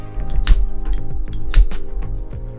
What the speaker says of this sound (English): You'll know when it's done because you'll hear a clicking noise.